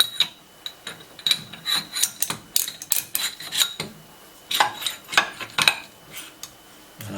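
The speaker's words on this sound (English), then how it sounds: "hold it at the front and put the two lock washers in, and then insert the shaft." A steel shaft being fitted with lock washers into the headstock of an Excel lathe during assembly: scattered metallic clinks, scrapes and small knocks at close range, irregular and fairly quiet.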